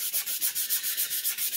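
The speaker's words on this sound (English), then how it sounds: "So again, we're going to sand." Rough glue and sawdust tear-out on wood being sanded by hand, a steady run of quick back-and-forth gritty strokes, close and alone with no talk.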